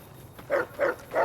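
A dog in the video game Fallout New Vegas gives three evenly spaced, moderately loud barks over a steady hiss of game ambience.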